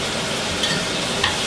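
Stir-frying in a hot pan with oyster sauce: a steady broadband sizzle with a couple of brief scraping stirs of the spatula, close and continuous, with no talking.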